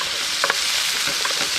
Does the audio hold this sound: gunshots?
no